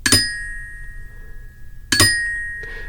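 Two flams struck on bells, left hand landing just before the right, each a bright doubled metallic strike with a long ringing decay, the second following about two seconds after the first, with no voices.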